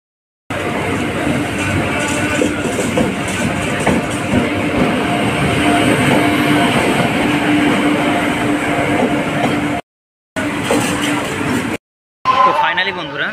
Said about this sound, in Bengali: তো ফাইনালি বন্ধুরা আমাদের ট্রেন ছাড়লো